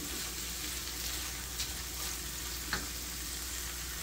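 Onions and ground hamburger fry in a pan over medium heat, giving a steady low sizzle with a couple of faint scrape or clink accents, no one speaking.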